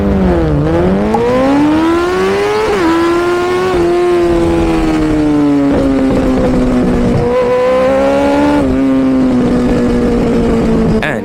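Race cars at the start of a race, their loud engines droning and revving at high pitch, a dense continuous roar that rises and shifts in pitch, close and steady throughout.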